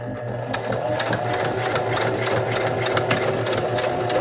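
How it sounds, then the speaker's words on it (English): A sewing machine reverse stitching a tote bag strap, steady rapid needle chatter over a motor hum, close and continuous. "Make sure you do a reverse stitch on both the front and the back of the strap."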